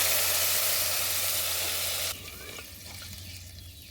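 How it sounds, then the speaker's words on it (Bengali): Masoor dal frying in a pan hisses loudly and steadily, then the sizzle drops abruptly to a quieter bubbling simmer as water is poured in for boiling; no voices. "ডালটা সিদ্ধ হওয়ার জন্য পরিমাণ মতো পানি দিয়ে দিচ্ছি।"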